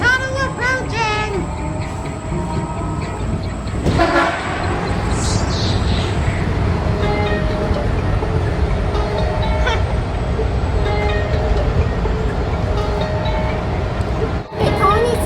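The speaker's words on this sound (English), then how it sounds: "Train tunnel approaching!" A metro train runs loud and close, its steady rumble and rattle filling the whole stretch, with a sharp whoosh and pressure change as it enters a tunnel near the start and a brief dip near the end.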